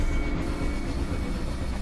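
A runaway train in the Poppy Playtime chapter 2 video game rushes along its track with a loud, continuous rumbling roar and no break or pause.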